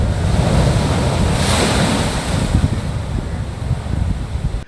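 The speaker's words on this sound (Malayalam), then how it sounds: "പരിമണം ക്ഷേത്രത്തിന് എതിർവശം കോൺക്രീറ്റ് സംരക്ഷണ ഭിത്തി കടന്ന തിരമാലകൾ തീരത്തേക്ക് അടിച്ചു കയറി" Sea waves crash over a concrete seawall onto the shore opposite Parimanam temple in Kerala, a loud, continuous roar of surf with heavy wind buffeting the microphone throughout.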